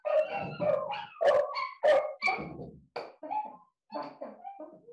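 Several dogs indoors bark and yip in quick, loud bursts, close by, with a few shorter yelps toward the end.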